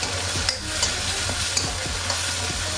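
Manchurian sauce with ketchup and Schezwan chutney being stirred in a hot pan, a steady sizzle broken by repeated spoon scrapes at an even rhythm, close and fairly loud.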